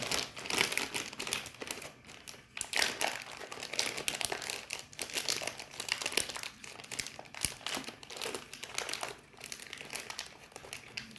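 Crinkly plastic wrap being handled while crystals are packed for shipping, a busy, continuous crumpling and rustling that runs close up throughout with no talk.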